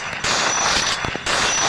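Weapon fire in the mobile game Free Fire during a training round, a dense, continuous crackling roar of rapid shots with brief dips, loud and close, no talk.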